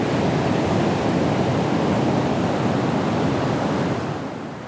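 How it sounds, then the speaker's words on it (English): Ocean waves surge in a dense, loud wash of broadband surf noise that fills the whole clip, slightly easing toward the end with no voices present. "I smell the salty air, and I hear the waves"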